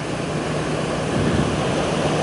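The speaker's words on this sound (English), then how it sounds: "the waves break over it continuously" Ocean waves break continuously over a rundown groin on a beach. The surf makes a dense, steady wash of rushing water with no pause.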